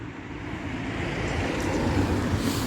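Steady wind buffeting outdoors at a Christmas market, a broad, rough rush that builds gently over a few seconds, with no voices in this moment.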